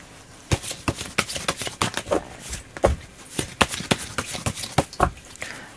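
Tarot cards being shuffled by hand during a reading, a brisk run of sharp papery riffles and slaps in uneven rhythm, close and fairly loud with no talk over them.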